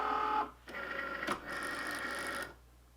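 A Cricut cutting machine loading a mat with cardstock: a short beep-like tone, then mechanical whirring and rolling motor noise with a click partway through, stopping after about two and a half seconds.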